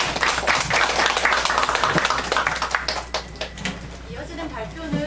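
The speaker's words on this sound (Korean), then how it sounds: "발표해주신 김현정 선생님께 다시 한번 큰 박수 부탁드립니다" An audience at a Korean digital learning festival presentation claps for a presenter, with dense, close applause that thins out toward the end while voices murmur underneath.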